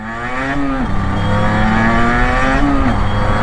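A small two-stroke Yamaha TZR 50 motorcycle engine revs loudly up close, its buzzing pitch climbing, dipping, then rising again in short blips.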